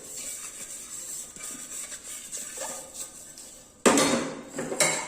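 Steel dishes and vessels being scrubbed by hand, a steady raspy rubbing close up, then louder clanking and scraping of metal pots near the end, with no talking.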